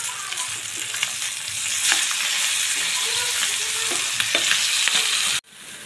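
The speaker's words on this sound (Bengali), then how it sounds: "এদিকে আমি মাছগুলো ভাজতে দিয়ে দিচ্ছি।" Hilsa fish fry in hot oil in a pan, a steady close sizzle with crackling pops and occasional stirring clinks that cuts off abruptly near the end.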